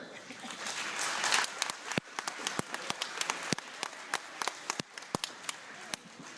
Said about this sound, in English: I want you to acknowledge your parents by clapping for your parents